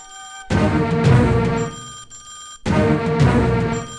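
A telephone rings loudly in two long electronic bursts separated by a short pause, close and clear with no talking.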